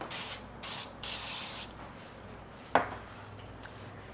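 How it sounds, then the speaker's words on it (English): Avocado oil is sprayed onto foil pans, three short hissing bursts from a spray can, close and quiet, followed by a light metallic clink of the foil pan. "I'm gonna spray them with avocado oil just to make sure things don't stick too badly"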